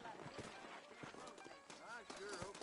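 Saddled horses' hooves clip-clop in a Red Dead Redemption game scene in New Orleans, a steady patter of hoof falls running under close conversational voices.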